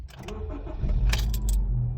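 A Honda Civic FB7 Eco Elegance with automatic transmission starts up: a brief starter whir, then the engine catches into a low, steady idle, heard from inside the car with a faint jangle of keys.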